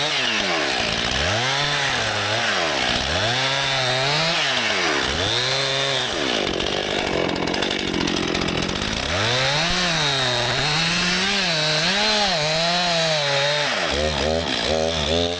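Chainsaw cutting a tree notch during winter logging in Finland at -21°C, a loud two-stroke engine revving up and down in repeated surges as it bites into the wood, close and continuous.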